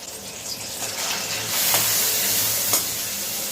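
Onion is fried in melted butter in a pan, with a loud continuous sizzle and hiss that swells after the onion goes in, plus a few sharp scrapes of a spoon.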